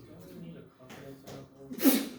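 A single sharp sneeze near the end of a math lecture, preceded by quiet breathy sounds and soft voices in the background.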